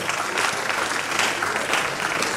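Crowd applause in an auditorium at a science and technology lecture as a guest is called forward, continuous close-packed clapping throughout at an even level.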